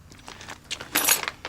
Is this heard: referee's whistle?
no